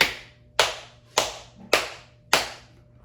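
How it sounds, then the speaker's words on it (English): Five firm, evenly spaced hand slaps land on the back of an infant choking-rescue training mannequin, each a sharp, close smack with a short decay and no voices. "and you begin slapping the back. 5 back slaps."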